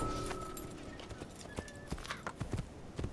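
Horse hooves clip-clop at a steady walking pace in the Assassin's Creed video game, close and clear over faint ambient game sound, with a brief whinny-like tone early on.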